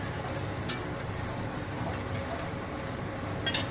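Grated ginger fries lightly in a pan for street-style veg noodles, giving a soft, low sizzle with two sharp utensil clinks against the pan.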